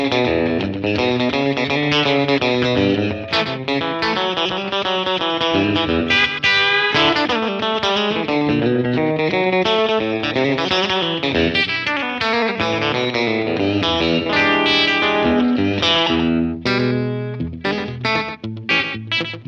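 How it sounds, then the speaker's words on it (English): An electric guitar played through a Fender Mustang Micro headphone amp with slapback delay and reverb rings out in loud, continuous, distorted chords and riffs, with echoing repeats and no talk. "one of my favorite combinations, and that's slapback delay and reverb"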